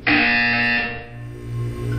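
A loud, steady electronic buzzer from the Portal 2 video game sounds alone for about a second, then drops to a lower, sustained hum that continues to the end.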